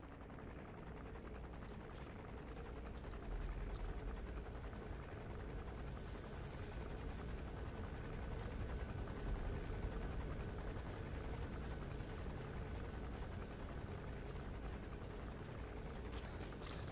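Military helicopter in the video game Metal Gear Solid V: The Phantom Pain, a steady, loud rotor drone and engine whine that holds throughout with no talking.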